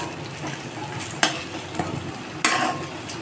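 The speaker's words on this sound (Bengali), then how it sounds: "বড়াগুলো একদিকটা ভাজা হয়ে গেছে। এখন অপর দিকটা উল্টে দেব।" Moong dal fritters fry in hot oil on low flame as they are turned over, a steady close sizzle broken by a few sharp scraping clinks of the utensil.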